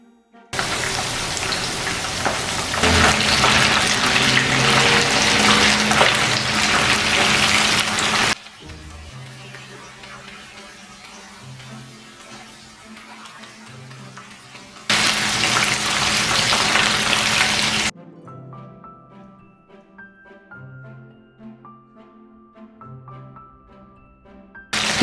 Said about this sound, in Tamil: இப்போ நாங்கள் இதை பொரிச்செடுப்போம்.